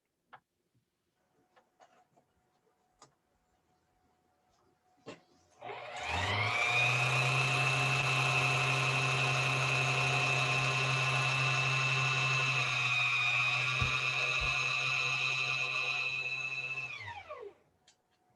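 A sewing machine stitching a sleeve seam on a puffy-sleeved dress at half-inch allowance, running as one steady mechanical whir for about twelve seconds before winding down, close and moderately loud after a few faint clicks, no voices.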